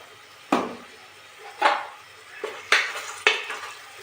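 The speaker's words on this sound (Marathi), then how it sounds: "मस्तपैकी मसाले टाकते आता मसाल्याला मस्त दोन मिनटं होऊ देते" Spices, including a black masala, go into a pan for a quick dal khichdi and are stirred: four spaced scraping clinks of a spoon against the pan over a faint low sizzle, with no voices.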